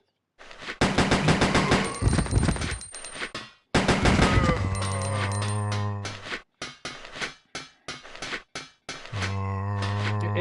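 Submachine gun fire in the video game Resident Evil Code Veronica X: loud rapid bursts of automatic shots, with short pauses and clanging metallic echoes between strings of fire.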